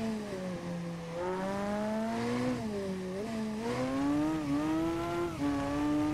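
A Honda Hornet motorcycle, a CB 600 or CB 900, revs and accelerates in the Ride 2 racing game, its engine pitch climbing in steps through gear changes, steady and fairly close with no talk.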